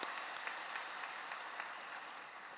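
Congregation at a Sunday church service claps in thanks for the choir, a steady, fairly faint wash of applause from a large crowd lasting a few seconds.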